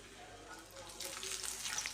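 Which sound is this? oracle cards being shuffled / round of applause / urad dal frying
urad dal frying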